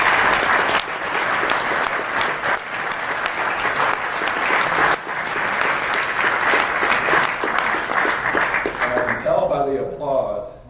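A keynote audience at Southwest Fox 2019 breaks into loud, sustained applause that holds steady for several seconds and then fades quickly into a few scattered claps.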